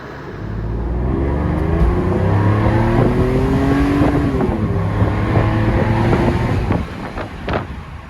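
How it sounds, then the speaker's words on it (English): A 1997 Mercedes SL600 with the M120 V12 runs and revs close by, a steady loud engine drone with rising and falling harmonic sweeps across about seven seconds, then eases off near the end, with some wind rumble and no talk. "V12s just sound so good."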